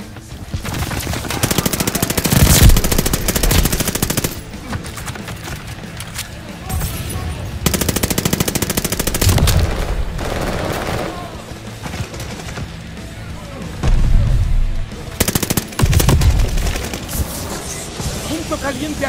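Gunfire in the shooter game Call of Duty: Vanguard: loud bursts of automatic fire and single shots in uneven clusters across a match, mixed with game sounds and occasional radio-style voices.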